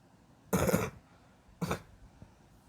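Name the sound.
coughing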